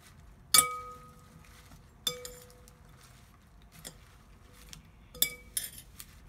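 Huge serving spoons toss a fresh salad in a bowl, giving three sharp ringing clinks spaced a couple of seconds apart and a few softer taps between them. The sounds are close and there is no talking.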